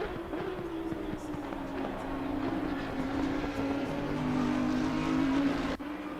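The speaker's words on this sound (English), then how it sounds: "Hear that roar of the Bentley. You don't get that in any other car." A Bentley race car engine roars during a race at Bathurst in Assetto Corsa Competizione, a sustained loud droning note that rises in pitch, then cuts off abruptly near the end.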